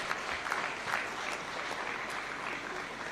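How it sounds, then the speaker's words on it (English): Audience applause at a Taxpayers' Day awards ceremony at State House, Nairobi, a steady dense clapping from a crowd lasting about three seconds at moderate level with no talk over it. "A round of applause for the NIS."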